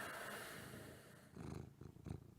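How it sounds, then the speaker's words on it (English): Shadow, a cat beside a podcast microphone, purrs softly with a low rhythmic rumble. The purr sits close and quiet and pulses in short swells toward the end. "Shadow has purring to add"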